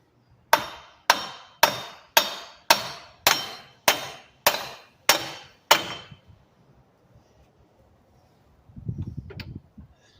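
Hammer blows on the front CV axle of a 2002 Ford Ranger 4WD, eight sharp metallic strikes in a steady rhythm, close and loud, followed by a short rustle of handling.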